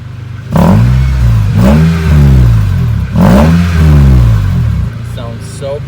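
An Acura RSX engine with a freshly welded exhaust revs hard three times with a deep, throaty exhaust note, each burst rising and falling before settling back to idle.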